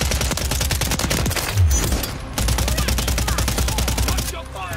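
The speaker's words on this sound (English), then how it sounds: "Watch your fire. You're shooting friendlies." Rapid bursts of automatic gunfire in a Call of Duty match, loud and close, with dense repeating shots broken by a brief pause and a heavy low thump, the firing resuming in long sustained volleys.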